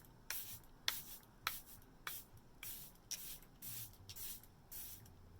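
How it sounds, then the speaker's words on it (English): Around ten quick misting sprays of makeup setting spray hiss in a steady rhythm, soft and close, with no talking. "Let's put some setting spray on."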